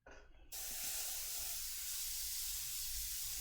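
An airbrush sprays paint at raised pressure onto the underside of a Gaslands model vehicle, a steady loud hiss that starts abruptly and runs continuously.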